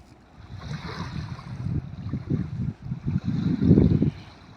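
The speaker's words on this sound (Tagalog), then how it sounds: "Malupit yung motor ni Tabsong." A small boat motor chugs steadily close by, its low throbbing rising and falling, with water splashing and wind noise around it.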